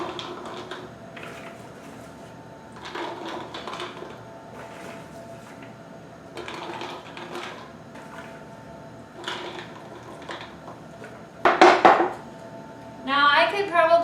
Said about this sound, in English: So I'm just going to fill each of these jars.